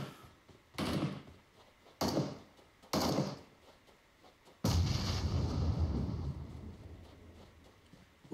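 Gunfire in the mobile battle royale PUBG Mobile: three separate loud bangs about a second apart, then a longer rumbling blast that slowly fades.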